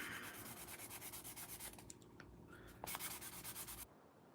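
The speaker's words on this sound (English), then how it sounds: "I'm sanding this plastic part right here" Rhythmic back-and-forth sanding of a small plastic pen part, close and fairly quiet, with quick repeated strokes that pause briefly midway before resuming and then stopping abruptly.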